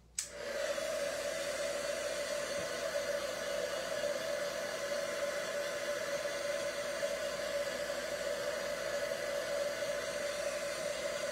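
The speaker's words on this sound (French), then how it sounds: "je prends mon fer embossé, OK, et je vais sécher" A heat embossing tool blows steadily for about eleven seconds, drying wet craft material with a constant, close, loud whirring hiss like a hair dryer, starting abruptly and running alone without speech.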